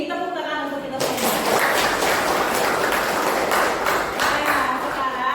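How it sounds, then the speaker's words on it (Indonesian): Applause from a classroom of students after a class agreement is made, starting about a second in and continuing as dense, steady clapping to the end, loud and close, with a voice speaking briefly at the start. "Tepuk tangan untuk kita semua."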